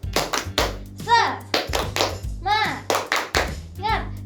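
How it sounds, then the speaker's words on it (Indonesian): Children in a kids' church service do a rhythmic spirit clap, sharp bursts of group clapping in a patterned beat mixed with young voices chanting along and an adult leading. "Kita mau tepuk semangat."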